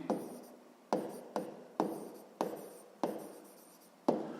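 Pencil writing on paper during a math exercise, a series of about seven scratchy strokes, each starting sharply and trailing off, close and quiet with no talk.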